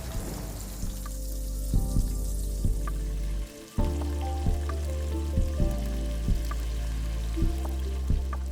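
Breaded Florentine steak deep-frying in oil at a Florentine trattoria: a steady, loud sizzle and bubbling with crackling pops, briefly dipping once partway through before the frying roar resumes, no voices.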